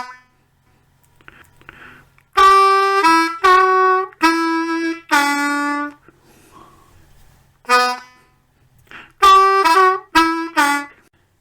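Blues harmonica riff with bent 3-hole draw notes, played once slowly and then again at normal speed; loud, close, reedy phrases with brief pauses between bursts.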